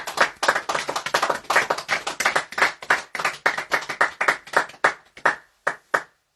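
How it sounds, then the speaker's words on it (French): Members of a church congregation clap their hands together, with loud, separate claps close by that thin out into a few scattered final claps. "Nous applaudissons le roi des rois."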